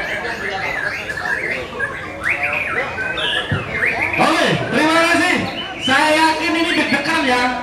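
Murai batu songbirds at a bird singing competition squawk and chirp loudly and continuously, with busy overlapping calls and a crowd murmuring underneath.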